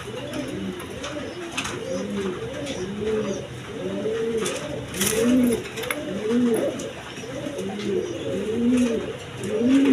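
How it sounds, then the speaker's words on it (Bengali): Spot-patterned pigeons for sale cooing close by, a continuous run of repeated soft, throaty coos from several birds overlapping steadily. "একদম ছট পড়া কবুতর দেখেন"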